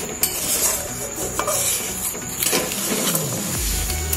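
A spatula scrapes and clatters continuously against a pan as tomato chutney is stirred over the heat, with a steady rhythm of close, gritty metallic strokes and occasional clinks.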